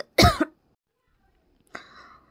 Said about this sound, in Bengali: আমার মাঝখানে কাশি চলে আসছিল